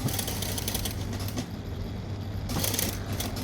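A sewing machine runs steadily while restitching an existing seam line during a garment alteration to fix a deep front neckline; a continuous close mechanical whir with a low hum, pausing briefly midway before resuming.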